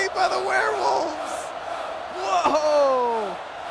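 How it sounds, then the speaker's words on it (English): Stadium crowd roaring and chanting in an American football video game playoff, a loud sustained wash of many voices with rising shouts and a sharp thud near the middle. "The crowd is chanting go"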